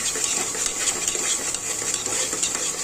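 Pav bhaji masala with Kashmiri red chili fries in oil in a pan, a bright continuous hiss of sizzling with light stirring clinks, steady and close.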